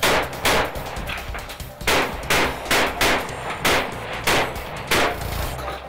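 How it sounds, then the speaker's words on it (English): Shotguns fire in a shooting competition, a rapid series of loud, sharp blasts coming roughly twice a second, close and punchy with brief ringing tails. "A strong finish with the shotgun only increases the pressure on Jerry"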